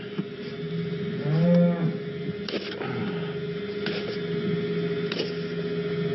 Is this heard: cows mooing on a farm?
yes